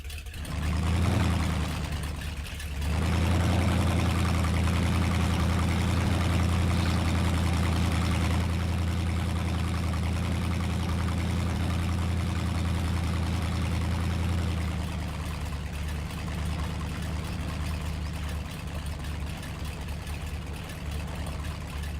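A truck engine idling in the off-road game Mudrunner, a steady low rumble and whir that swells early, holds evenly for several seconds, then eases to a slightly lower drone, with no talking.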